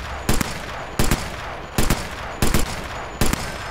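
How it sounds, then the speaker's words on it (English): Automatic weapon fire in the Sniper Elite VR video game, five short sharp bursts of rapid shots at regular intervals, loud and close, with steady background ambience between them. "You've got like automatic weapons as well."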